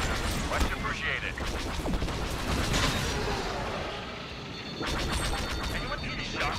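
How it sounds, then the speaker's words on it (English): Explosions and crashing blasts rumble through a Star Wars video game space battle, dense bursts of booming impacts and gunfire layered over each other, with a lull in the middle before another loud flurry. "Anyone see the shockwave from that explosion?"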